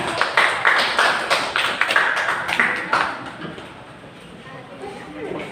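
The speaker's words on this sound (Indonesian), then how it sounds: "Beri tepuk tangan." Classroom applause from students during a teaching session, a run of sharp, scattered claps that is fairly close and loud at first, then thins out and fades over several seconds.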